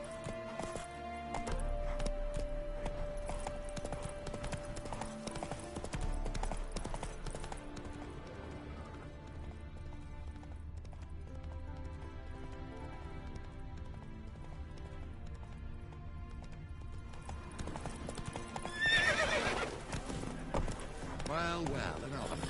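Roach, the horse from The Witcher 3, gallops with rhythmic clip-clop hoofbeats under game music, and a brief neigh sounds near the end, while a voice speaks at times.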